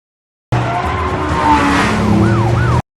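Tyres squeal hard as a gold car speeds away in a Jackie Chan action film set in Dubai, a loud skidding screech with engine roar and rising and falling siren-like whoops, alone without voices.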